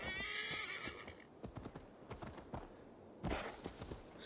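In Assassin's Creed Valhalla, a horse whinnies loudly at the start, followed by steady clip-clop hoofbeats, with a second shorter neigh near the end.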